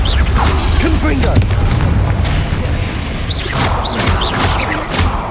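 Confringo fire blast spells explode in Hogwarts Legacy as a loud, dense run of overlapping booms and crackling bursts, with whooshing casts and game sounds filling the whole stretch.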